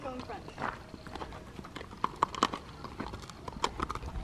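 A ridden horse's hooves clip-clop in an uneven walking rhythm at close range, faint and intermittent, with people talking over the steps.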